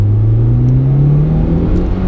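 A Mitsubishi EVO X FQ-300 GSR in Sport S mode pulls hard under acceleration. Its engine drone rises steadily in pitch, close and loud, with no gear change in this short stretch.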